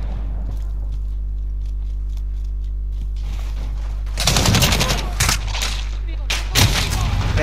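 Call of Duty Modern Warfare gunfire starts as faint distant shots over a low steady hum, then bursts into loud close automatic fire and sharp rattling volleys, with a voice speaking over it.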